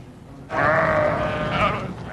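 Sheep on an Idaho grazing range let out a loud, close bleat that rises suddenly after a quiet start and holds, with more wavering bleats following over low background noise.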